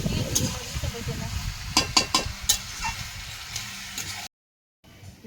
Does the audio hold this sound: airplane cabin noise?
no